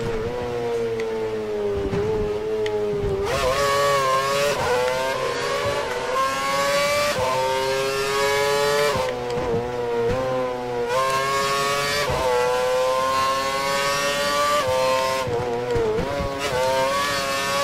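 A Formula 1 racing car engine in the F1 2012 video game screams loud and continuous, rising through gears with repeated upshift drops and climbs, filling the whole stretch without speech.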